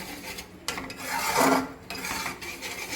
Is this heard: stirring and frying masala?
yes